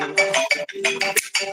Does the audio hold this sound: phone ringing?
yes